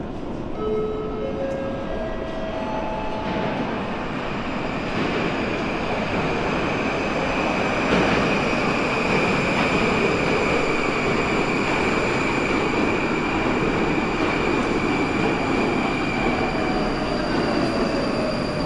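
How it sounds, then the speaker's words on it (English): Metro train arriving at an underground station in Russia, a loud rumbling roar of wheels and carriages with high squealing tones, steadily building and sustained. "Now the train is coming."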